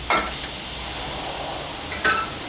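Crispy chilli and garlic stir-fry over low heat in a pan for a pork belly dish: a continuous hiss of frying, with a spatula scraping strongly near the start and again near the end.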